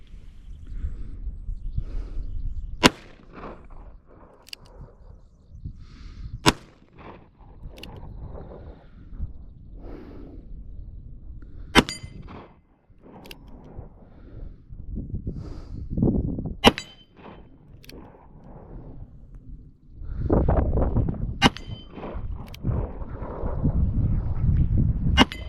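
Revolver shots at a shooting range ring out on steel targets, among them an S&W 686, Colt 1860 Army, Ruger Vaquero or Ruger GP100. About ten sharp, isolated cracks come at irregular intervals over steady low background rumble and handling noise.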